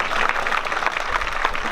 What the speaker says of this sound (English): How about a round of applause for the